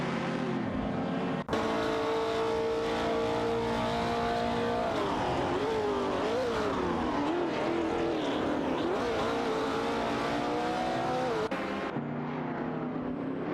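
A Porsche 904 and a Lancia Stratos HF duel among other race cars in a racing video game, engines droning loudly and steadily with wavering pitch as they jostle, starting and stopping with abrupt cuts and no voices.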